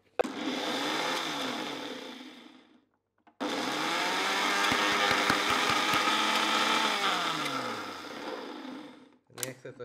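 A blender whirs loudly through frozen vegan peanut butter and curry ice cream in two runs, the first cutting off after about three seconds and the second running longer, its pitch sagging and rising as the mixture thickens.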